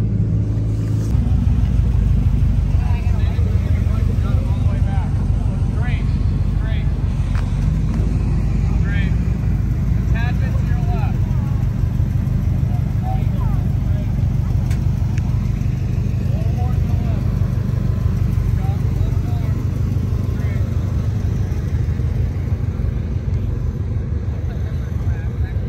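A car rolls slowly through a crowded car show at Rentschler Field while its driver hunts for a parking spot, a steady low engine rumble filling the cabin from start to finish with faint intermittent voices.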